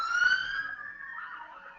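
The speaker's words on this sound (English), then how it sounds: "excuse the police sirens you're hearing outside my house just going down the street" A police siren wails, its pitch sliding downward and fading as it passes along a street, heard without talk.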